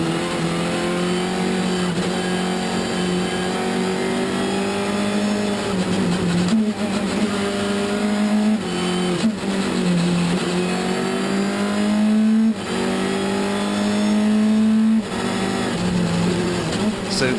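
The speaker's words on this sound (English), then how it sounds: "we're strapped in on his bumper cam as we're heading up the hill on the front of the Peugeot 208's" Peugeot 208 T16 rally car engine climbing a hill at Rally Islas Canarias, heard up close from a bumper-mounted position: a loud, continuous high-revving drone with repeated gear-change dips and rises throughout.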